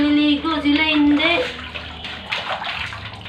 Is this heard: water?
yes